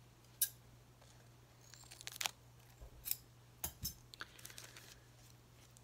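Scissors cut open a small bag holding a thrift-store trinket, a few quiet, sparse snips and crinkles close up amid soft handling clicks, with no talking.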